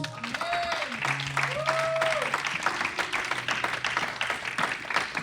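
A church congregation claps and cheers in acclaim of Jesus, a continuous wash of close applause mixed with voices and sustained musical tones.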